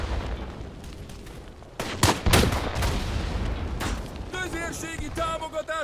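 Mortar fire in the WWI shooter Tannenberg: booming impacts and rattling gunfire, a heavy cluster of blasts midway, then ringing tonal whines and more distant shots toward the end.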